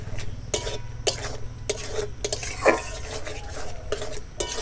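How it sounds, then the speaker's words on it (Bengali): Mustard paste is stirred into boiled potatoes in a pan for a thankuni leaf chorchori, with repeated scraping strokes of a utensil against metal and a faint sizzle underneath. "এখন সর্ষে বাটা দিয়ে দেব। সর্ষে বাটা দিয়ে ভালো করে মিশিয়ে দিতে হবে।"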